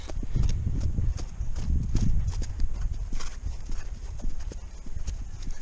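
A horse's hooves clip-clop steadily on the ground close by, a quick irregular rhythm of many footfalls over a low background rumble, with no one talking.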